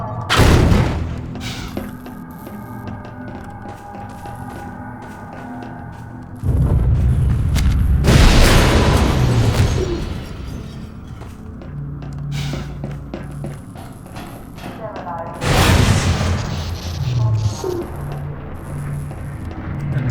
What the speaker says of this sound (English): Basically everything wants to explode in your face.